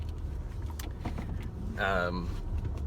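Low steady hum of a car engine idling while reversing slowly, with a voice speaking close by over it.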